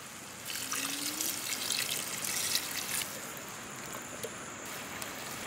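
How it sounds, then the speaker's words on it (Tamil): Water trickles and splashes steadily into a pan of drumstick fish curry on the stove, a soft, close pour lasting a few seconds with no speech. "முருங்கைக்காய் வேகறதுக்காக கொஞ்சமா தண்ணி சேர்த்துக்கலாம்"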